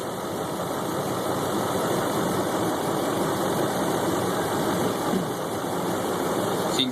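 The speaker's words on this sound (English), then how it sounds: "Idle the engine, no load." A CNG-converted V8 engine idling with no load during calibration, a steady, even mechanical hum and faint vibration that holds unchanged throughout without any revs or talking.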